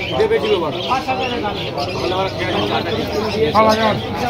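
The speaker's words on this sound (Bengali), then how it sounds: "এই হচ্ছে পায়রা।" Pigeons cooing and fluttering at a crowded pigeon market in Krishnagar, close and fairly loud, mixed with a steady hubbub of people talking nearby.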